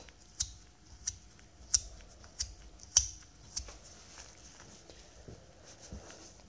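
Squeezed more firmly, a two-shell metal haptic coin with an inner thrust roller bearing makes muted, softer clicking snaps in an uneven rhythm that fade toward a quiet swish, close by and without speech.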